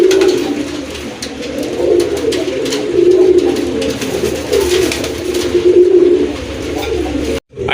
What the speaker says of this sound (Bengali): আপনারা দেখতেই পাচ্ছেন গোলাপি ঠোঁটের কবুতর